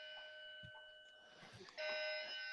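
A loud electronic alarm keeps sounding through an online meeting, steady high tonal beeps that grow louder partway through and carry on alone without talk.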